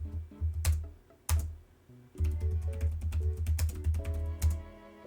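Key presses on an HP Pavilion x360 m3-u101dx laptop keyboard that needs hard pressing, a fast run of close, crisp clicks with a brief pause midway, then denser typing.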